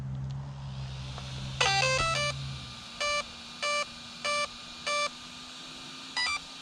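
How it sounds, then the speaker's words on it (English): An RC car ESC in an overvolted Arrma Outcast 4S V2 on a 3S Ovonic pack lets out a quick cluster of electronic tones, then five evenly spaced, clear, high beeps over a low hum. "I just heard 4 beeps"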